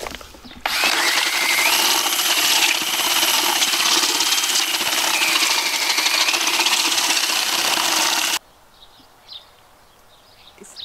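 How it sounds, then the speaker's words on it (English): A power drill mixing mortar whirs steadily and loudly for several seconds, churning with a gritty mixing texture, then stops abruptly, leaving quiet room sound. "You ready with that drill, Mr. Drillman?"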